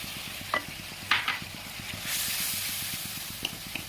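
Masala sautés with water and fried potatoes in a pan, giving a soft steady sizzle under a low rhythmic hum, with a few scraping stirs and a louder burst of hissing steam midway.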